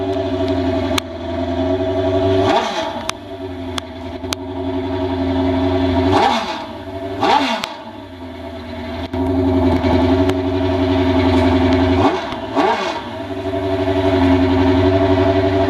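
A Suzuki GS Pro Street drag motorcycle, a 1500 with 39mm cone carbs and a Vance Hines Pro Stock exhaust, warms up with a loud, steady idle broken by several sharp throttle blips, heard close and alone.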